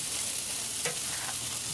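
Chicken drumsticks sizzle steadily on a smoky grill as they are flipped, a constant close hiss with a brief scraping turn near the middle and no talking.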